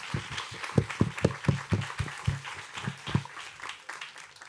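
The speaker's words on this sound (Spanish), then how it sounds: "se merece un aplauso" A short burst of applause from a small group, scattered hand claps that thin out and fade after a few seconds.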